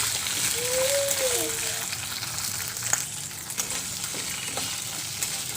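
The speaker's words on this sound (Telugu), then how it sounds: "శనగపప్పు కొద్దిగా మినపప్పు అయితే ఆయిల్లో ఫ్రై చేయండి పచ్చిమిరపకాయలు వేసుకుని" Chana dal, urad dal and green chillies frying in hot oil make a steady, close sizzle with soft stirring underneath that holds evenly throughout.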